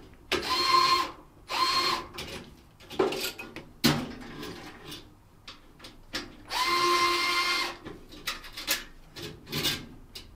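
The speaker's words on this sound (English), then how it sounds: "I'm using an electric screwdriver." An electric screwdriver whirs in short bursts as it backs screws out of a PoE network switch, with clicks and handling noises between runs. Close and fairly loud, with no speech.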